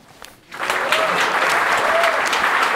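A comedy-show audience claps at a requested medium level, five out of ten. A brief quiet opening gives way to sustained, fairly loud applause with a few faint voices mixed in.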